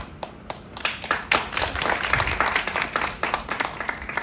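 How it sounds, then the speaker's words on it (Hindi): A small audience at a poetry recital claps, the separate hand claps uneven and close at first, then thickening into a modest, irregular round of applause. "अपनी तालियों से मुझे अपना आशीर्वाद प्रदान करें"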